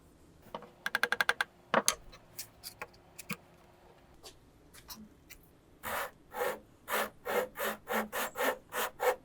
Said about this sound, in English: It helps to start on one corner instead of sawing all the way across.